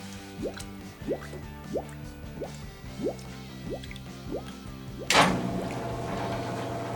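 Liquid sanitizer flowing and dripping through the top of an Electro Freeze CS700 soft-serve machine, a steady series of drips and squishy gurgles, followed by a louder rushing pour toward the end.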